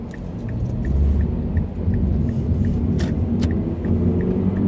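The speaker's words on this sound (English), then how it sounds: "Traffic is terrible." Road traffic produces a steady low rumble of passing cars, loud and continuous, with a faint periodic ticking and a couple of brief sharp clicks over it.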